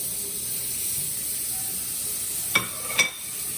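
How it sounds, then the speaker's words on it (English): Butter sizzles in a pan as a steady, soft hiss throughout, broken near the end by two brief clinks of a utensil against the pan. "now we're going to drop our butter in the pan."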